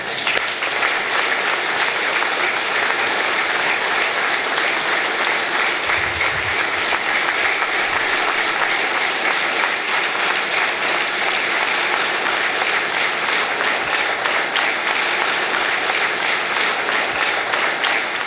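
Sustained, loud applause fills the National Assembly chamber of Côte d'Ivoire as members stand to honour Henri Konan Bédié, a thick continuous wash of clapping with faint murmurs, never pausing.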